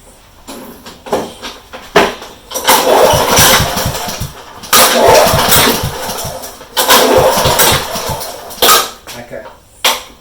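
Honda HRU196 lawn mower with a starting fault being pull-started: repeated rough cranking bursts that catch and sputter briefly before dying, loud and close, with a voice talking between attempts.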